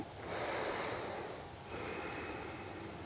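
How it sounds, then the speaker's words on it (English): Slow, deep breathing during a figure-four piriformis stretch on a bed: a long audible inhale followed by a second breath, close and airy with a slight snort-like nasal edge. "Breathing, breathing,"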